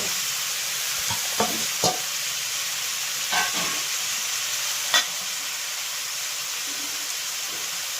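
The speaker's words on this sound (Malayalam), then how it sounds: "ഒരു മുഴുത്ത ക്യാരറ്റ് അത് പീസാക്കിയതും കൂടെ ഇതിലേക്ക് ഇട്ട് ഇളക്കാം" Potato and carrot pieces stirred in a pan for a chicken stew, a soft hiss with a few scattered scraping strokes, fairly quiet throughout.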